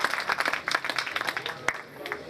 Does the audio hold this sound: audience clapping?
yes